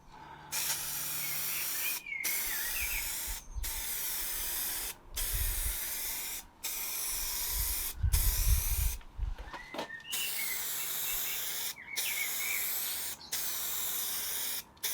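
A Mini car gets its second coat of spray paint outdoors, a series of about ten close, loud hissing bursts from the spray gun separated by brief silent pauses, with faint low rumbling under some passes.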